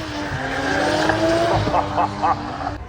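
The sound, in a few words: green BMW drifting at Castle Combe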